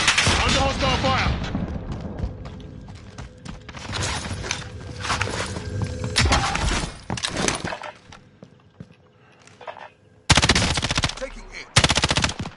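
Rapid automatic gunfire rattles in the Call of Duty video game, with heavy bursts at the start, scattered shots and glassy breaking midway, a quieter lull, then loud volleys returning near the end.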